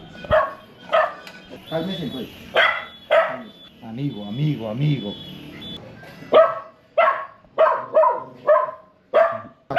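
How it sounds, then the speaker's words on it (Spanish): A female dog in a Colombian city neighborhood barks repeatedly and sharply at close range, with a stretch of growling and whining in the middle, while someone speaks to calm her. "Ay, esta perra es más peligrosa."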